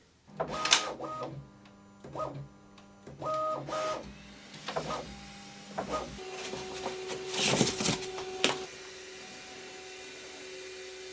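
A Bambu P2S 3D printer runs calibration in repeated bursts of whirring motor tones, then settles into a steady hum with a louder buzzing stretch; close and fairly quiet.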